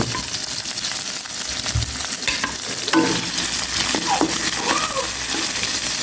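Sliced onion sizzles and crackles steadily in a hot pan, with a spoon stirring and scraping through it now and then, close and continuous throughout.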